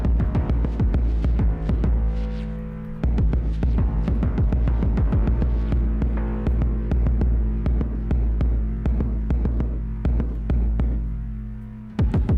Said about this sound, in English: Let me solo just the second kick.